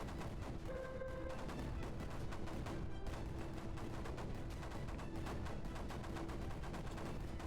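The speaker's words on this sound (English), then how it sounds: "I'm just gonna chill with some mortars." In the video game Creeper World 4, mortar artillery fires in a dense, continuous barrage of overlapping booms and crackling blasts, loud and unbroken throughout.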